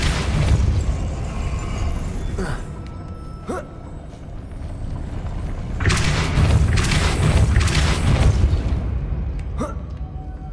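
Depulso spell blasts go off in the video game Hogwarts Legacy: a run of deep booms and bursts, with one heavy rumbling blast in the middle and sharp pops around it, loud and close.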